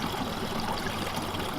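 Radiator flush solution mixed with warm water being poured into a car's cooling system, a steady close trickling gush of liquid running throughout without a break.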